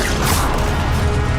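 A Levioso levitation spell is cast in Hogwarts Legacy, producing a short, loud magical whoosh and clattering burst that fills the brief moment at close range.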